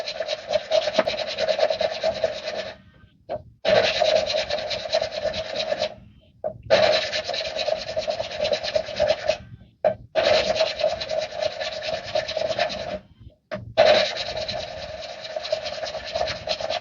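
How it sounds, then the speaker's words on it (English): An engine valve is lapped by hand into its seat, giving a steady gritty rasping rub in five long strokes separated by brief pauses where the valve is lifted and turned, close and fairly loud. "So we grind it, lift and turn it, grind it again."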